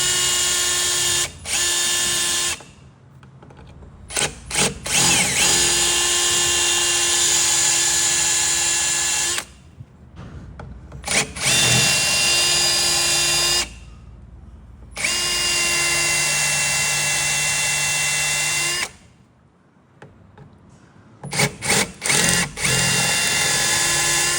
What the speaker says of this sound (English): the drill I'm using is the drill that I am going to use to re-rivet it